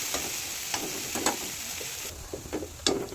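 Spices sizzle in hot oil while a spoon scrapes and stirs the pan in irregular strokes, close up and without any talking, for a paneer and chana dal dish.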